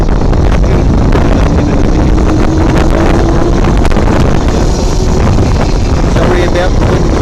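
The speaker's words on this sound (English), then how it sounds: "Sorry about the wind." Heavy wind buffeting the microphone at an outdoor motorbike drag race, a steady roaring rumble that never lets up, with faint indistinct sounds beneath it.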